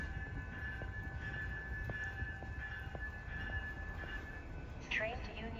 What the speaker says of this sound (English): Train to Union Station now arriving.